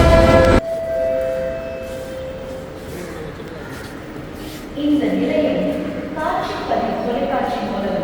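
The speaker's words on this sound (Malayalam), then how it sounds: "ഇപ്പം മെട്രോ എത്തു, അതിൻ്റെ തിരക്കിലാണ് എല്ലാവരും ഉള്ളത്" Chennai metro train arriving at a station, opening with a brief loud tone that cuts off, then low rolling rumble and hiss as the train draws in, with chimes and a crowd murmuring nearby.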